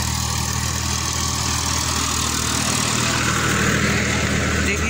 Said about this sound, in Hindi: ट्रैक्टर जो है चल रहा है।